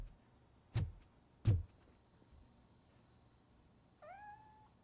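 Grumpy the cat in RoboCop: Rogue City gives one short, faint meow near the end, after two heavy thuds from footsteps.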